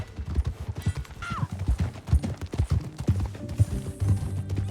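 Horse hooves clip-clop at a steady riding gait in Red Dead Redemption 2, close and rhythmic, with a brief whinny early on and soft saddle and tack creaks mixed in.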